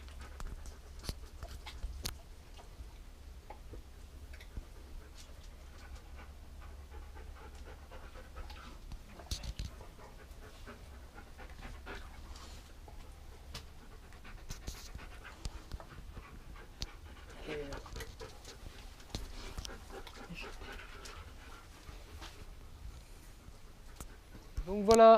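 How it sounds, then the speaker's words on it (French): Dogs pant quietly and steadily while eating rabbits, faint and close, with occasional clicks and scuffs and a person speaking intermittently. "Donc voilà, les chiens ont fini leur lapin."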